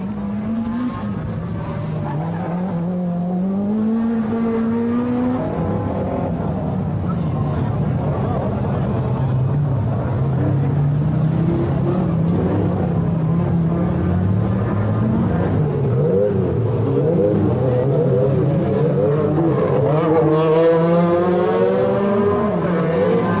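Rally cars race at the 1986 24 Hours of Ypres, their engines revving and shifting pitch as they accelerate and pass, loud and continuous with crowd noise and a commentator's voice running over them.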